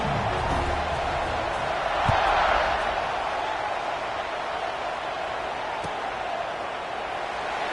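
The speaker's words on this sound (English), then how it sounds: "this crowd is buzzing after that last score" Steady stadium crowd buzz filling a football game after a score, a broad continuous roar of many voices with a slight swell early on and faint thuds beneath, no single voice standing out.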